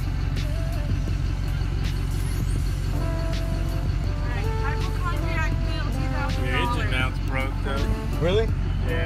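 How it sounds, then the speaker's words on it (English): A Duramax LB7 diesel truck with a suspect turbo rumbles at idle with a steady low drone from the exhaust, while people talk over it near the vehicle. "It's coming out the exhaust, like turbo noise out the exhaust"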